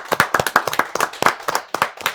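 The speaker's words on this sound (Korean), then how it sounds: "박수 주세요." Audience at a university intellectual-property evaluation show claps in sparse, distinct hand claps, a small group applauding with uneven rhythm, close and fairly loud.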